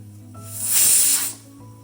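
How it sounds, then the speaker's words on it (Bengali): A pressure cooker whistle hisses as it releases steam with no water spilling out, a loud rushing blast that swells and then dies away over a couple of seconds. "দেখো সিটি পড়ছে কিন্তু জল মোটেই বেরোচ্ছে না"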